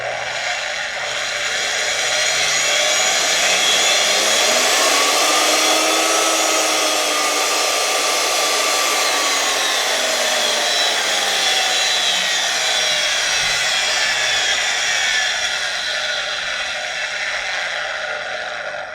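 Brushed motor of a DIY mag drill and drill press hybrid on a variable speed controller, a loud steady whine that climbs and then eases in pitch, running close by for the whole stretch with no talking.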